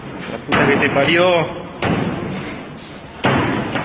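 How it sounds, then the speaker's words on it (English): A locker room door slams shut three times in quick succession, each hit a loud, abrupt thud followed by a short rumbling decay, close to the listener. "A door was opening and slamming shut on its own."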